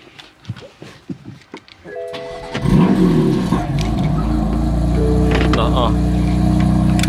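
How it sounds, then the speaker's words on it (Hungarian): A BMW M4 GTS with an Akrapovič exhaust starts up and then holds a loud, deep, steady rev. Speech comes first over a quiet background. "Akrapovics megszólalt. Ilyen az olyan hangos kipufog, aminek szép a hangja."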